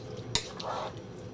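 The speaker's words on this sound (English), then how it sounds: "So of course we're gonna give this a good stir." A pot of Surinamese djar' pesi moksi alesi being stirred, a sharp metal clink of the spoon against the pot followed by soft scraping and faint sizzling, close and quiet.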